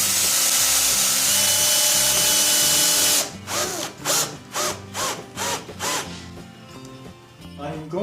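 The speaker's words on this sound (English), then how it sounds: "And I'm putting in 2-inch number 6 flathead screws." A power drill drives 2-inch number 6 flathead screws into wood: a loud continuous whine first, then a string of about six short rising bursts as the screws seat, close and alone.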